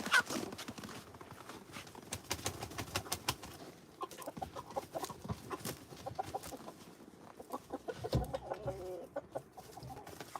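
Backyard chickens on a snowy morning, a busy stretch of irregular clucks and scratchy movement with clopping-like taps, close and continuous with no pauses.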